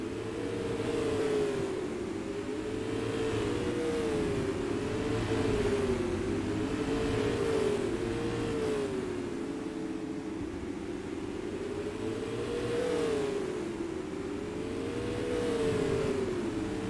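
Race cars run in heavy lap traffic at Madera Speedway, a continuous loud engine roar whose pitch swells and dips as cars sweep past in repeating waves, with no talk over it.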